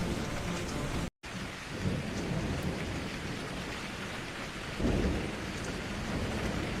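A thunderstorm approaching a hill: steady heavy rain with low rumbling thunder throughout, swelling into a louder roll near the end, broken by a split-second gap, no voices.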